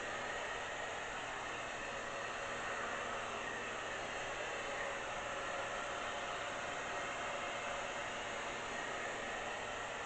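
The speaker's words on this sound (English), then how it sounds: "You just don't want to hold your hair dryer in one spot." A hair dryer blows continuously while working on a pool table, a steady broadband whoosh that stays even and unbroken throughout, close and fairly loud.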